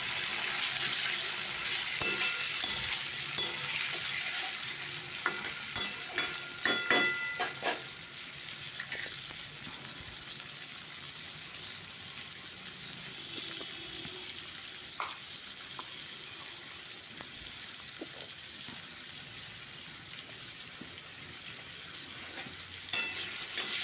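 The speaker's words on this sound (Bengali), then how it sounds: "আলুটাকে আমি প্রথমে ভেজে নেব" Potatoes fry in oil with cloves, cinnamon and dried chilli for a mushroom curry, a constant close sizzle broken by bursts of stirring and spatula scrapes early on, no talking.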